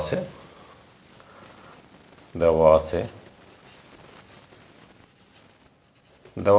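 Marker or chalk strokes on a board while working a logarithm problem in a math class, a soft scratchy rubbing that runs under the teacher's talk, with a louder voice burst midway and again at the end.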